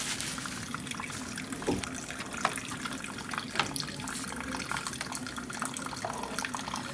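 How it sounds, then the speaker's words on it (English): Cold water runs steadily from a bathroom sink faucet, a soft continuous splashing stream close by with a few brief clinks, and no talking. "so I'm going to turn the cold water on"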